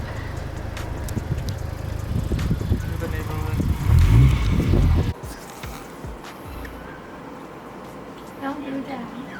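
A 2017 Honda Civic Type R engine with a PRL aftermarket intake revs and roars close by with a throaty intake sound, then drops away abruptly, with people talking over it.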